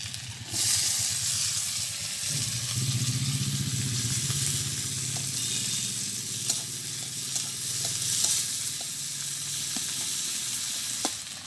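Onion, garlic and chilli fry in oil in one cleared side of a pan, giving a loud, continuous close sizzle with occasional stirring scrapes, and no talking.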